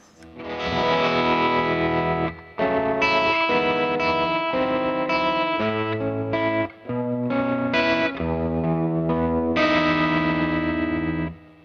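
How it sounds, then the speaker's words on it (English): An electric guitar strums chords through a Universal Audio tremolo pedal, the volume throbbing rhythmically as the chords ring out alone. "now on to the tremolo"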